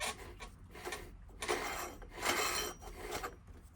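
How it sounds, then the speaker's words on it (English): A van's air conditioning compressor, turned by hand and sticking, gives a dry grinding rasp that swells and fades in uneven rubbing strokes, close and fairly quiet, with no voices. "if you try to rotate the compressor manually, it sounds doesn't sound really healthy"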